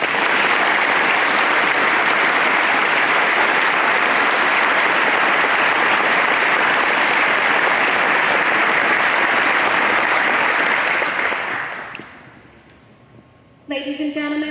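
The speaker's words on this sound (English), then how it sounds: "Please join me in a round of applause for our athletes," A large crowd claps steadily and loudly for athletes, guests and volunteers at the 2019 Marine Corps Trials opening ceremony, then fades out near the end before a brief burst of other sound.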